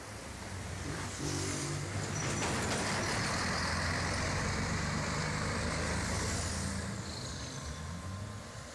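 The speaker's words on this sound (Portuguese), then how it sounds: "Passa moto, passa caminhão, tudo complicado." Motorcycles and trucks pass through a roundabout, heard as a steady, faint wash of road traffic with engines droning and rolling by at a moderate distance.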